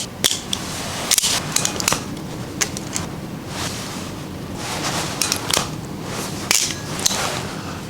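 Wires being cut to length with snips during a Denali CANsmart installation, heard as several sharp close snips spaced irregularly over a light background.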